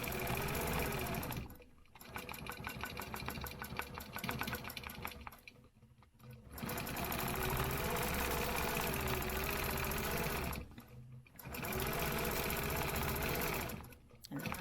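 Sewing machine running steady bursts while stitching a quilting grid over a stencil design, with three clear runs separated by short pauses, close and fairly loud, no talk.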